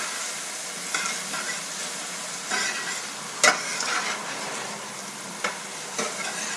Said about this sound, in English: And now we stir that around.